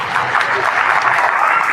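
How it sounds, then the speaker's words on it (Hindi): A classroom of students at a school education forum applauds together in a dense, steady burst of clapping, close and fairly loud throughout, with no pauses. "मैं बोलने जा रहा था कि ताली बजाओ, पहले ही ताली बजा दिया सब"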